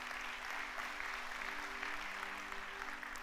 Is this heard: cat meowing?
no